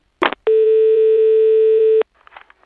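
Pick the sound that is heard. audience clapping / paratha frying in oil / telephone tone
telephone tone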